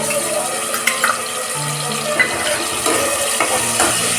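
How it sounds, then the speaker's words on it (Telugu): Masala with coriander powder sizzles and fries in a pan for mutton head curry, stirred with intermittent scraping clicks over a constant loud hiss. "బాగా వేయించుకోవాలి."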